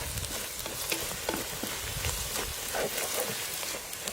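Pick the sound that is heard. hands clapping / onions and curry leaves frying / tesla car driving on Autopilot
onions and curry leaves frying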